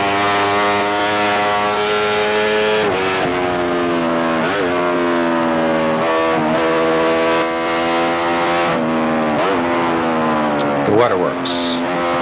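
A 1993 Benelli 350cc racing motorcycle screams at high revs on a road course, its engine pitch climbing and dropping through several sharp surges as a missed gear sends it over-revving, with a brief spoken remark over the din.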